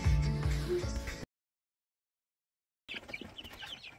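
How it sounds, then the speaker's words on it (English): Young chickens cluck and chirp before being fed grain, with a burst of close clucking, a sudden stretch of silence, then lighter scattered chirps and scratchy sounds. "I gotta feed these little chicks."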